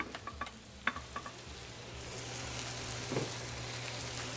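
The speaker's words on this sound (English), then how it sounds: "I'm getting ready to put my buns right on my griddle." Buns and grilled onions sizzle on a flat-top griddle for a jalapeño burger, a steady close frying hiss with a few light scrapes and taps early on, no talking.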